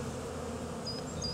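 Dense swarm of honeybees leaving a hive through a blue entrance, a steady close buzzing drone of many insects holding evenly throughout, with a few brief higher whines from individual bees passing near.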